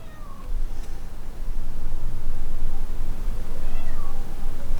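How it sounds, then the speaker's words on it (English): A house cat meows indoors during a tarot card reading, with thin calls sitting over a loud, steady, hissy background that fills the whole stretch. "We're going to kind of put up with my cat meowing for now until I stop the camera to adjust the cards"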